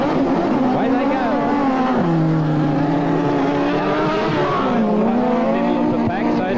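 Sidecar racing outfits at a 1985 Newcastle heat roar away from the start in a loud, continuous engine drone whose pitch climbs and dips through gear changes, with a commentator talking over it.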